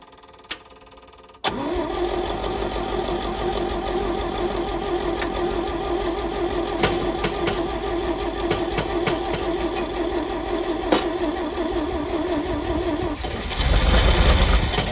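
A small engine on a restored Champ cranks over and catches, then settles into a steady, fairly loud idle that runs on, picking up slightly near the end.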